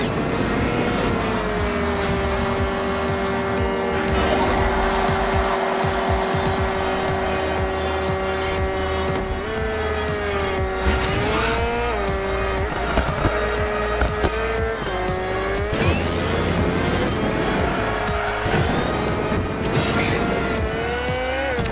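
Cars drifting and squealing their tires in Hot Wheels Unleashed 2 Turbocharged, engines droning steadily over upbeat game music with repeated skidding screeches throughout.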